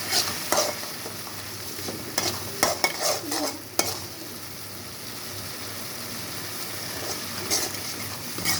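Crushed jaggery being stirred into mango pachadi cooking on the stove, with a steady soft sizzle and scattered scraping stir strokes, loudest in the opening seconds and then settling into a continuous simmer with no talk.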